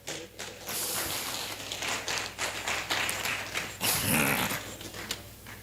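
Scattered clapping and tapping crackle unevenly for several seconds, a small group applauding fairly close, with no talking.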